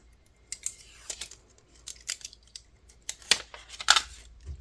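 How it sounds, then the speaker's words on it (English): Silicone mug wrap being peeled off a hot, cone-shaped sublimated mug, giving a series of close crinkling, rubbery peeling and tearing sounds in uneven bursts. "we are now unwrapping it to see the results"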